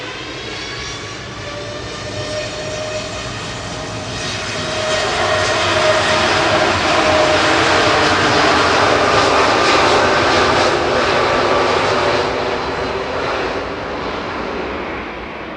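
A Boeing 787-8 on flight 2166 takes off at Manchester Airport, jet engine roar swelling loud and close in the middle, with drifting tonal whines, then slowly easing as it climbs away.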